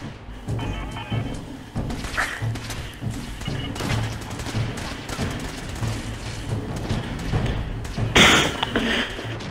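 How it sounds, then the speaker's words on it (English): Booming blasts and gunfire fill a Fallout 4 battle defending the Castle, with grenades going off among crackling shots and a louder explosion near the end. "Grenades everywhere."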